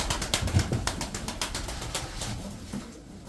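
Kırşehir tumbler pigeons cooing low and close while wings flap in quick repeated bursts, the flapping fading toward the end, with no voices present.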